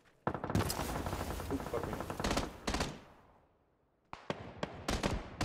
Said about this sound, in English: We're getting shot from the left.